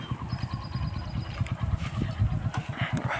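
A motorcycle engine runs steadily close by, its low, rapid, throbbing pulse continuous and fairly loud throughout, with no voices.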